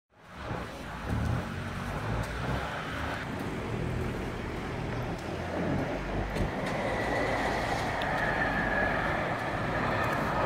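A train at the railway station in Sankt Johann im Pongau, Austria, rumbling steadily and fairly close in cool autumn air, a continuous mechanical drone with faint wheel screech toward the end and no talking.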